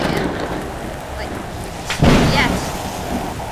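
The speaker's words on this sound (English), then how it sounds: "It's a lightning storm and acid rain." Thunderstorm with acid rain in the Roblox game Disaster Survival: a steady hiss of rain, then a sudden loud thunder crack near the middle that rolls off into a lingering rumble.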